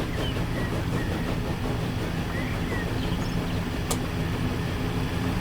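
A train rolls through a rail junction in the Transport Fever 2 game, a steady, dense mechanical rumble with faint clatter held at even loudness for the whole stretch.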